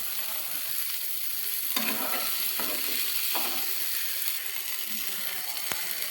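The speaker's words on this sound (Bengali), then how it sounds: "এর মধ্যে আগের থেকে ভেজে রাখা ফ্রাই মাংসগুলো কিন্তু এবার আমি এর মধ্যে দিয়ে ভালো করে মিক্স করে নিচ্ছি।" Pre-fried chicken pieces are stirred into a hot pan for egg chicken fried rice, a steady close sizzle broken by a few sharp spatula scrapes against the pan, with no voices.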